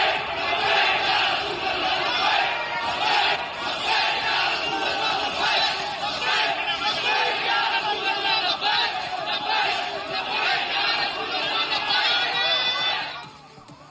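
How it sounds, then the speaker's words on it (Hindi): A large agitated crowd shouts slogans in unison during unrest in Nagpur, loud rhythmic massed voices continuing for the whole stretch before trailing off abruptly at the end. "अब जरा इनके मजहबी नारे सुनिए।"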